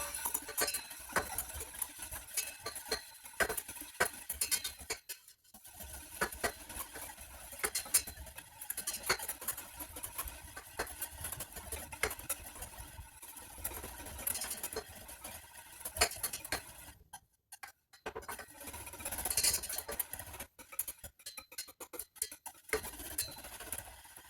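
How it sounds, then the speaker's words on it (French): A small whisk stirs an agar-agar mixture in a bowl, ticking and scraping in quick, uneven bursts with brief pauses, faint and close, with no talking. "Avec un petit fouet, je vais venir brasser mes 3 ingrédients"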